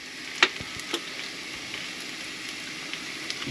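Shrimp frying in olive oil in a pan in a camper van kitchen: a steady soft sizzle with occasional sharp pops and crackles, close and alone without talk.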